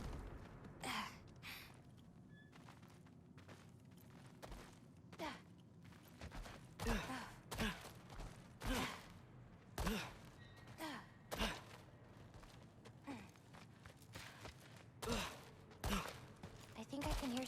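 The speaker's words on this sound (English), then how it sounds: "I think I can hear something breathing near the back of the cellar." Heavy, drawn-out breaths from an unseen creature lurking in a cellar in God of War Ragnarok, coming as repeated sighing gasps at an uneven rhythm, each followed by an abrupt sharp burst, all set against a low, dark ambient rumble.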